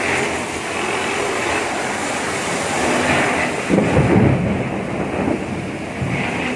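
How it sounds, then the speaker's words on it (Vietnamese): Loud thunder rolls during a rainstorm at a building site where mortar is being mixed, a deep rumble that swells midway over steady rain-like noise, with no talk. "Trời mưa sấm rất to"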